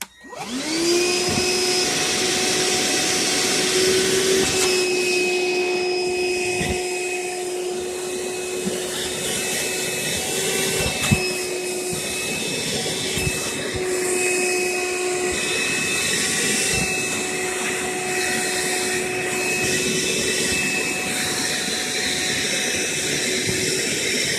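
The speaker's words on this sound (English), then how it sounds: "Let's say you got some bigger stuff you got to try to vacuum up." A Hercules half-gallon cordless wet/dry shop vac, 6 lb with a 5 amp battery, runs continuously with a steady high whine and motor drone, with brief rattles of debris being sucked up partway through, loud and close with no talk.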